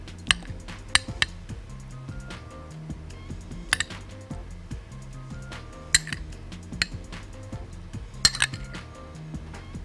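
Peach pieces are spooned into drinking glasses for a peach-bead drink, with repeated sharp clinks of spoon on glass spaced every couple of seconds over soft handling noise.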